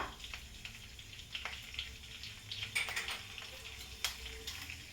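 Asafoetida and cumin hitting hot oil, the start of a jackfruit and chana dal dish, give a steady close sizzle with scattered sharp crackles and pops throughout, and no talk over it.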